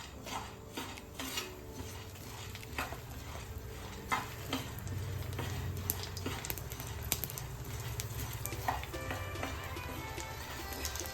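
Puris for pani puri fry in hot oil in a pan, giving a soft steady sizzle broken by light clicks and scrapes of a utensil against the vessel.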